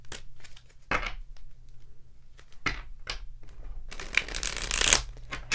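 Rider-Waite-Smith tarot cards being shuffled in several crisp bursts, with quieter rustling and handling between them; close up, no talking.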